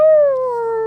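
A person howls like a wolf, imitating the animal with one loud, close, sustained call that starts high and slowly slides downward, lasting just under a second.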